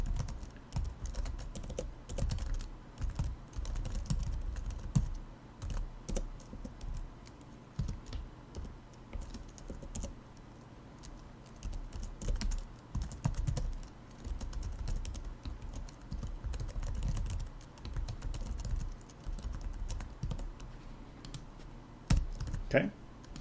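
Rapid, uneven clacking of a computer keyboard as someone enters code, steady close keystrokes running throughout with brief pauses and no voice over them.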